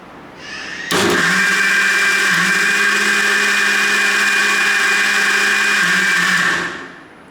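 A blender whirs mango lassi sweetened with honey, starting abruptly after a short lead-in, holding a loud, steady high-pitched motor drone for about six seconds, then winding down.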